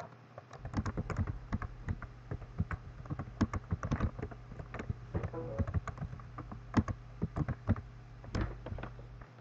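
A password typed on a computer keyboard, close and clear: irregular bursts of crisp key clicks with brief pauses, alone in a quiet room.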